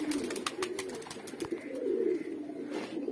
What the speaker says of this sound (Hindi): कबूतर बहुत प्यारे डाले हैं कल्लू।